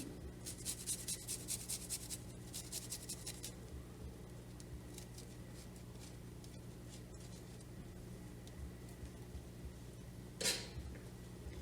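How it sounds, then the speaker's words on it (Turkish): A single garlic clove being grated, a steady dry rasping scrape repeated in quick strokes at close range, for a Turkish-style oven-roasted sesame vegetable dish with spices, no talk. "bir adet şöyle bir diş sarımsağımı rendeleyeceğim"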